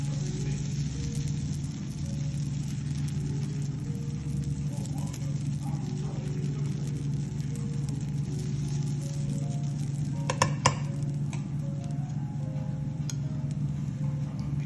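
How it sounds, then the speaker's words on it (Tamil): Adai lentil batter cooking on a hot dosa griddle gives a soft, steady sizzle with faint crackles and a low background hum, a few light clicks near the end. "தோசைக்கல் நல்லா காஞ்சதுக்கப்புறம் நார்மலாக நம்ம அடை சுடுற மாதிரியே சுட்டு எடுத்துக்கலாம்."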